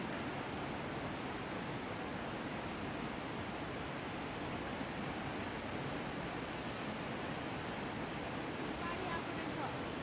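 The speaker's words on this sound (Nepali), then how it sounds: "पानीको आवाज आइरहेछ गाइज एकछिन सुनौँ है" Water flows in a steady, unbroken rush at Rani Jhula near Kathmandu, a continuous wash of noise with no pauses.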